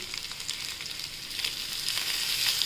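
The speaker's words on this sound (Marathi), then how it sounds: "आता आपण परतून घेऊया छान" Garlic, green chili and chili paste sautéing in a pan for spicy buttermilk chapati, giving a steady, bright, hissing sizzle with faint stirring, close and continuous throughout with no talking.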